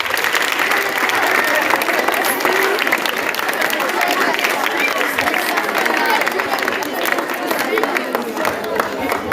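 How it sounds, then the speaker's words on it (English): A crowd at a school farm awareness event applauds steadily and loudly for the full stretch, with dense clapping mixed with cheers and background babble. "A round of applause for you."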